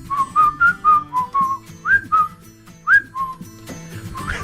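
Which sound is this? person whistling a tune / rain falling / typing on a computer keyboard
person whistling a tune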